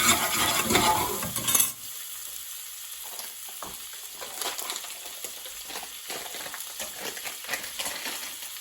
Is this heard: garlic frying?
yes